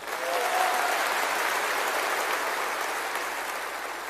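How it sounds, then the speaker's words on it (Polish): Audience applause fills a concert hall at a Silesian folk gala in Zabrze in 2015: dense, steady clapping that holds loud and even for the whole stretch, with a faint murmur of the crowd beneath. "jeszcze proszę o takie próbne oklaski"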